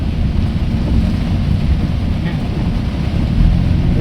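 Heavy rain driven by strong wind on a road, a steady loud roar of rainfall and gusts filling the whole span without pause.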